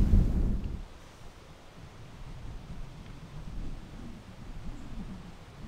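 Strong wind blowing outdoors where a wind turbine is being built, with a heavy gust buffeting the microphone at first, then a steady low rumbling roar.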